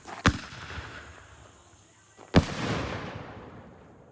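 Two sharp, loud aerial shell bursts from a wide box of consumer fireworks at a backyard birthday party, the second followed by a long crackling, rumbling decay as the effects fall.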